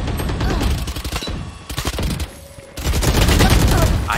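SMG fire in Valorant rattles in loud, close, rapid bursts, with a long spray, a brief lull of scattered shots, then another sustained burst.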